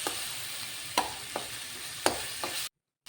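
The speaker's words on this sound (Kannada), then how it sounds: "ಈಗ 1 ದೊಡ್ಡ ಗಾತ್ರದ ಹೆಚ್ಚಿಟ್ಟುಕೊಂಡಿರುವ ಟೊಮೆಟೊ ಅದನ್ನು ಮಿಕ್ಸ್ ಮಾಡಿ ಸ್ವಲ್ಪ ಬೇಯಬೇಕದು ಒಟ್ಟಿಗೆ ಎಲ್ಲನೂ." Chopped tomato frying in a pan for chicken curry, a soft steady sizzle broken by a few sharp scrapes and clinks of a spoon stirring, fairly faint, ending in a brief silence.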